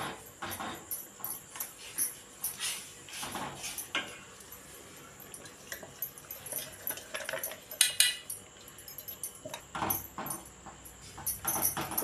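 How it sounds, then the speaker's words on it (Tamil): Ground roasted gram flour being stirred in a pan over a low flame for a sweet burfi, giving irregular metallic scrapes and clinks of the spoon against the pan, fairly close and steady. "பொட்டுக்கடலை அரைச்சி எடுத்தாச்சு. வானலில் போட்டுக்கலாம். மெதுவாக தெள்ளி விடுங்க."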